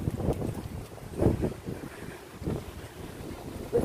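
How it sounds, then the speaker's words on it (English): Outdoor morning wind buffets the microphone in rumbling, uneven gusts, a low blustery roar with no other clear sounds. "Look at the wind."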